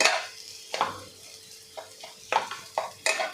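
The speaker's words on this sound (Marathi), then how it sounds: "बघा अशा पद्धतीने आपल्याला परतत राहायचं आहे" Dal being stirred and roasted in a pan over a low flame, with a traditional spicy tikhat vatli dal made for a Ganpati festival offering; several separate scraping stir strokes come through close and clear over a faint background.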